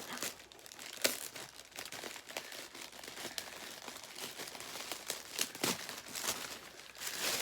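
A Victoria's Secret package being opened: close, busy crinkling and crackling of plastic wrapper with quick tearing rustles throughout, loud against a quiet room, no voices.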